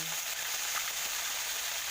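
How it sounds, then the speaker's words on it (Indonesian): Tofu frying in hot oil, a steady close crackling sizzle that continues evenly throughout with no talking. "Goreng tahu sampai matang dan berwarna kecoklatan juga kering."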